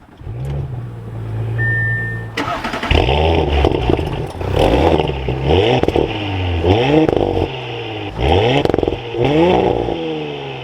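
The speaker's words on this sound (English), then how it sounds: "But let's fire this S5 up." A 2023 Audi S5 Sportback starts with a brief electric whine, then its engine catches and settles into a loud idle, blipped through several rising and falling revs close by with no talking.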